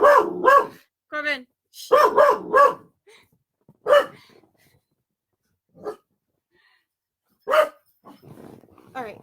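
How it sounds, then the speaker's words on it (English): A pet dog named Corbin barks at people arriving home, several loud close bursts of barking in clusters with pauses between, while a person hushes it. "My parents just got home, so he was barking at them."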